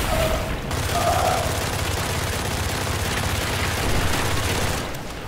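Rapid gunfire from shooting in the video game Witchfire, a dense continuous barrage of loud overlapping shots and impacts with no clear gaps, fading slightly at the end.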